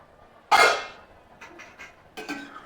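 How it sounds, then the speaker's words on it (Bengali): A cooking-pot lid lifted off after simmering egg do pyaza masala, giving one sharp metallic clatter up close, then a few softer clinks and a final knock. "5 মিনিট পরে ঢাকাটা তুললাম।"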